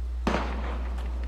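A single sharp gunshot crack in the video game Valkyria Chronicles, with a short decaying tail over a constant low hum and a faint later thud.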